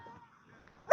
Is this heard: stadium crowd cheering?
no